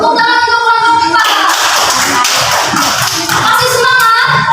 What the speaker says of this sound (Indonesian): Tepuk tangan untuk kelompok Pak.